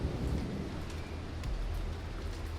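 Rain falls steadily in a dense, low wash during a storm at sea aboard the sailing yacht Bayesian, with faint distant rumbling underneath and no voices.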